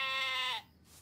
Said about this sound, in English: Oh, Sheep, you're my very favorite cuddle buddy.